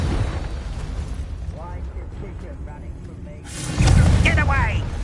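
A Confringo blasting spell goes off in Hogwarts Legacy, a loud burst that erupts near the end after quieter in-game voice chatter, with crackling debris trailing behind it.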